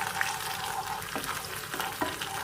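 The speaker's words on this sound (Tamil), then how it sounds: "காஞ்சோடனே இந்த ரெட் சில்லி பேஸ்ட்டை வந்து எண்ணெயில் நல்லா போட்டு வதக்கிடணும்." Red chilli paste sautéed in hot oil, a steady close sizzle of frying with a few soft stirring scrapes, no voices.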